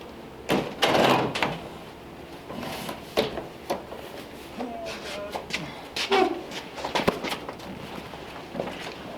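Door knocks and latch clunks from the rear-hinged suicide door of a 1934 Ford Tudor sedan, several sharp bangs and rattles spread over the stretch, close by in a garage with a voice murmuring faintly.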